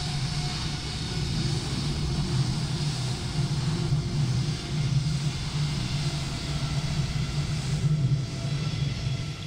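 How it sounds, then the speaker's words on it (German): Airliner taking off from New York in a flight simulator, a steady loud engine roar with low rumble holding evenly throughout, no voices. "jetzt startet wirklich live eigentlich dieses Flugzeug"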